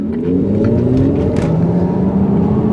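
2022 Mercedes EQS 580 electric car driving and accelerating, a loud steady whirring drone with a rising electric motor whine under road rumble, heard from inside without talk.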